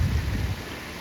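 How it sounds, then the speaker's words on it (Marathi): Rain falls outdoors at a fishing spot in a steady broadband hiss, with a heavier rumbling patch at the start that thins to a softer patter. "तर इकडं पाऊस चालू आहे ना"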